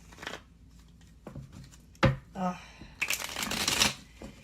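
Tarot cards are riffled and shuffled close by in quick bursts, with a voice speaking softly between the shuffles.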